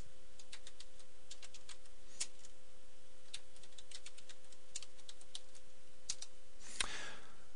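Keys clack on a computer keyboard as a hostname is entered for a Cisco router, a quiet irregular run of single taps ending in a louder press, close and without speech.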